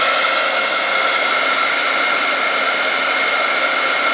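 Heat tool blowing hot air onto a craft material, a loud constant whooshing roar from a blower motor running steadily and close with no talking.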